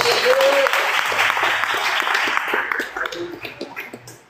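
A church congregation applauds joyfully to welcome a young preacher, dense clapping that fills the room and then thins into scattered claps, with a voice speaking briefly over it.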